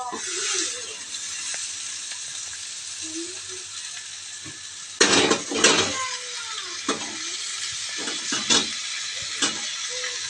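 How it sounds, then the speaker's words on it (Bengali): Chowmein noodles are tossed and stirred in a hot pan, a steady sizzle running throughout with a cluster of louder scraping, clattering strokes about halfway through and a few sharper knocks after, no talking. "চলো এবার এটা মিশিয়ে নিই তো চাউমিনটার মধ্যে"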